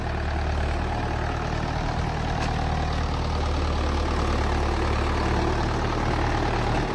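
A Mahindra 475 tractor with banana-field cage wheels runs with a steady, loud, low diesel drone, close and unbroken, with no talk over it.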